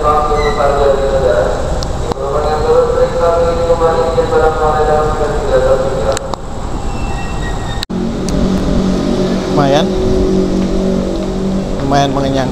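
A train rolls into an Indonesian station on the way to Cikarang, still moving as it arrives, with a steady rumble and drawn-out wheel squeal while people talk nearby.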